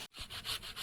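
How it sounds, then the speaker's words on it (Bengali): Tomato rubbed over a kitchen grater, a few brief close rasping strokes after a short pause, quiet and alone. "টমেটোটাও ঘষে দেবো"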